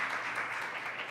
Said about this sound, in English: So you should give them a quick round of applause